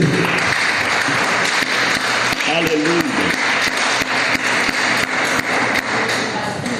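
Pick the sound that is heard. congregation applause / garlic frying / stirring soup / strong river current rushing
congregation applause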